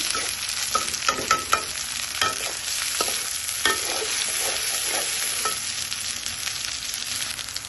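Fish pieces are stirred with onion in oil in a pan for a coconut fish curry, several sharp scraping knocks in the first half over a constant close sizzle that carries on alone afterward, with no talking.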